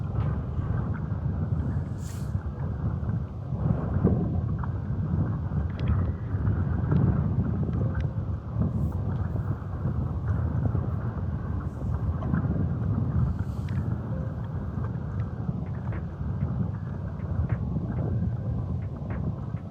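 Strong wind roars across a lake around a fishing boat, a loud continuous rumbling gust with buffeting on the microphone and no voices.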